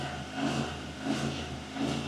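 A rental car's engine revs in three surges, rising and falling in short bursts over a steady idle at moderate level, heard close with no talk.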